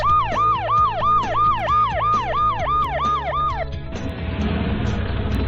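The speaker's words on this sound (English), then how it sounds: "Ambulance." Ambulance siren close and loud, a fast regular two-part wail repeating about a dozen times before cutting off, leaving a dull roaring background noise.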